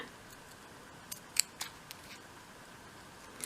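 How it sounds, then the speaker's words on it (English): Small scissors snipping coloured paper at the sides of a template for a 1/12th scale miniature shop model, a few sharp close clicks and snips spaced irregularly against a quiet background. "Use my smaller scissors here. Cut away at the sides, just up to your little template in there."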